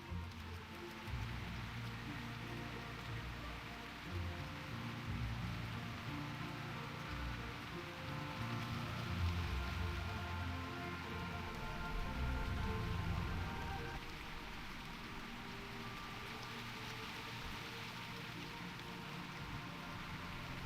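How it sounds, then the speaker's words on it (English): Heavy rain in the video game World of Warcraft Classic: a steady, dense hiss of falling rain holds at an even, fairly soft level throughout, with no talking. "I love the rain. I love this heavy rain"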